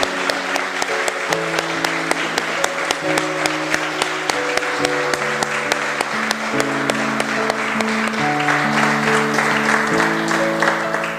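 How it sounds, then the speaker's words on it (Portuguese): A church congregation at a Sunday service claps steadily in rhythm over sustained keyboard chords, the even claps continuing throughout beneath the music. "Vamos aplaudir o Senhor."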